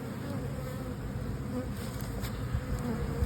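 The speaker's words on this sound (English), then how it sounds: "Certainly plenty of bees." Honeybees drone continuously around a hive being split, a dense, close buzzing swarm without pause or speech.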